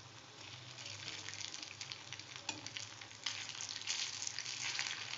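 Then mittai dough fries in oil on a low flame, giving a continuous bubbling sizzle that grows a little stronger partway through, close and fairly soft, with no voices.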